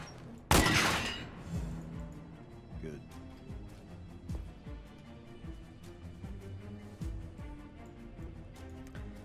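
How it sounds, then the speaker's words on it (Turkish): Pistol gunfire in the video game Beyond Two Souls: a loud, sharp shot near the start followed by scattered fainter shots and impacts over game sounds, with voices talking throughout. "Tabanca sesi güzel."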